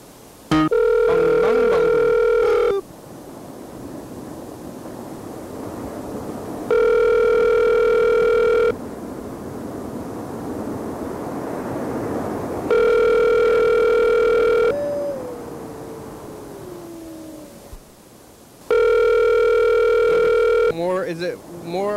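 Repeated telephone tones sound in loud, steady two-second bursts every few seconds while a call is being placed, with a wavering tone and background noise between the bursts.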